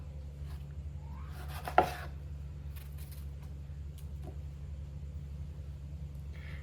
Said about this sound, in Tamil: ஒரு தக்காளி வெங்காயம் கட் பண்ண மாதிரி கட் பண்ணிக்க போகிறேன்.